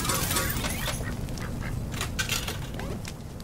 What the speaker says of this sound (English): There goes the ducks.